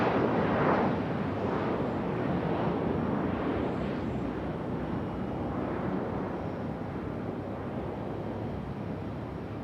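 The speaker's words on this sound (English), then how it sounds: "Nice early rotation for our 717. Leaving like a rocket this one." Boeing 717 jet taking off at Raleigh-Durham International Airport, a loud, steady engine roar with broad rumble that holds strong throughout and eases only slightly toward the end.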